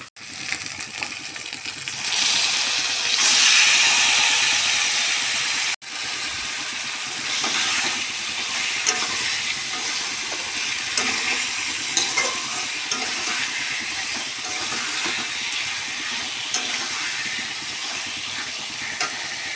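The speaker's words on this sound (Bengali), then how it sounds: "এবার আগে থেকে ম্যারিনেট করা চিকেন আমি কড়াইতে দিয়ে দেব।" Marinated chicken with cumin, turmeric, salt and sugar hits hot oil in a kadai with a loud rush of sizzle, then settles into a steady frying crackle with stirring scrapes and no talk.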